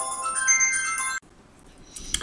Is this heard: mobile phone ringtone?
yes